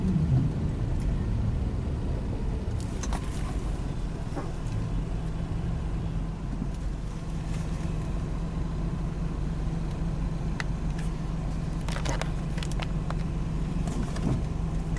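A car driving along a city street, with a steady road and engine rumble heard from inside the cabin and a few faint knocks and clicks, and no talk.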